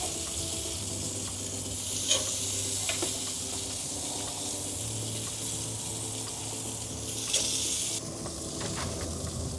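Sauce-dipped chicken wings sizzle quietly on a smoker grill rack in a soft, continuous crackle. A few faint clicks and bumps sound from nearby, and no one speaks.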